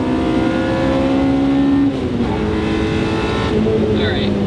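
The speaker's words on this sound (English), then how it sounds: "even being in this seat, I just love hearing the motor go" A Honda Civic fitted with a K20 engine revs hard, its engine note climbing to high RPM as a loud, sustained drone, then dropping briefly and building again, with people talking over it inside the car.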